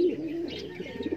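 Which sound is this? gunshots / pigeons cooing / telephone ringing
pigeons cooing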